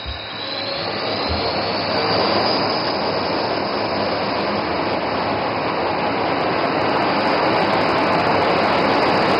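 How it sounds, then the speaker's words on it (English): Sukhoi Su jet engines at full power during an Indian Air Force air show roar continuously and loudly. The broad, steady blast barely varies and carries a faint high whine, with no talk over it. "notice the aircraft is now opening full power"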